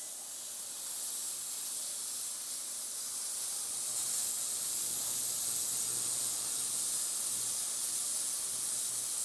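A Vevor ultrasonic cleaner filled with bolts and hardware runs with a steady, buzzy hiss that stays constant and fairly quiet throughout, with no voices.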